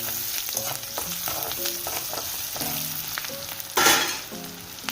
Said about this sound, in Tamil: வெங்காயம் பொன்னிறமாக வதங்கட்டும்.